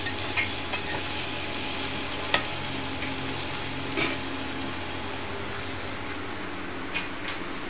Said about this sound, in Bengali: রান্নাঘরে যে এখানে কাল্লা ভাজা হচ্ছে।